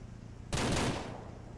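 A single sharp gunshot fires at a deer in the video game Ranch Simulator, a sudden loud blast with a short decaying tail, heard alone at moderate volume.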